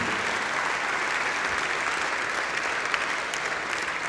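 An awards show audience applauds in a continuous, even roar of many hands, heard a little distant and unbroken from start to finish.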